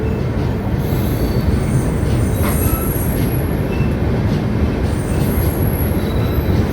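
Train running and slowing on the line at Manamadurai junction station, a loud continuous wheel rumble with high metallic squeals from the wheels, close and steady throughout with no talk.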